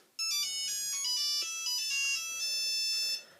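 Classic ringtone played on a Nokia 3310 phone speaker, a bright electronic melody of sharp tonal beeps with a low vibration buzz underneath, alone and fairly loud before stopping abruptly.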